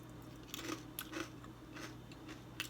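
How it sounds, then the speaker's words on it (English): A rice cracker dipped in edamame wasabi dip crunches in a few quiet, close bites with chewing between them, and no one speaks. "I'm going to try it with a cracker here."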